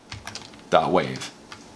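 A computer keyboard is used to type a file name: a quick run of light keystrokes with a brief voiced sound in the middle, close and short.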